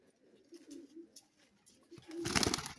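Pigeons for sale give soft, low cooing calls in short phrases, fairly faint and close, with a brief burst of rustling and fluttering near the end.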